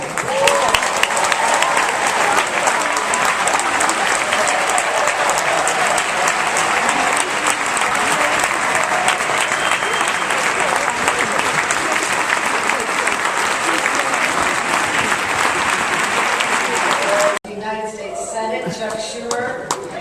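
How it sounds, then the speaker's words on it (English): Sustained, loud crowd applause at a Martin Luther King tribute event at BAM, greeting the governor of New York; dense clapping with cheering fills about seventeen seconds, then cuts to quieter background sound. "And I would love for you to give us a big round of applause for your governor, Governor Kathy Hochul."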